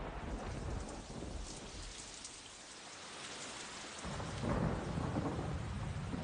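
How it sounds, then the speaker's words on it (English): Heavy rain pours steadily onto surfaces during a thunderstorm, a dense hiss at moderate distance. A deep rumble of thunder rises and swells toward the end. No voices are heard. "Then came the rain."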